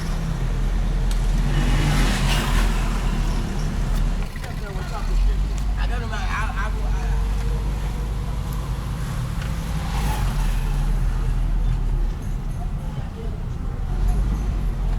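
A car drives through the busy streets of Jamestown, Ghana, with a constant low engine and road rumble plus passing traffic and street noise. People talk over the drive now and then.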